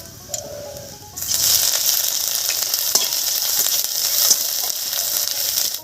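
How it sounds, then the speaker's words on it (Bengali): Grated ginger dropped into hot mustard oil with panch phoron, chillies and bay leaves. A brief quiet moment gives way to a sudden loud, steady sizzle with faint scraping and occasional clicks throughout. "আদাটাও ভাজা হয়ে গেছে"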